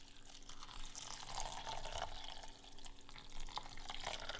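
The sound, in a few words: water poured over porridge oats in a bowl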